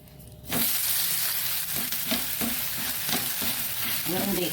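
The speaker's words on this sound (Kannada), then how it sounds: "ಸ್ವಲ್ಪ ಹಾಕ್ಕೊಂಡು ಇದನ್ನು ತಿರುವಿ ಹಾಕೊಳ್ಳೋಣ. ತುಪ್ಪ ಹಾಕಿ ತಿರುವಿ ಹಾಕಿ ನೋಡಿ." A ragi and green gram dosa sizzles in ghee on a hot pan after being flipped, a loud steady frying hiss with a few soft scraping stirs and no speech.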